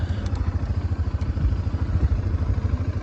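Quad ATV engine running as it rides downhill over rocks on a steep slope, a steady pulsing low engine drone with faint clatter, close and moderately loud.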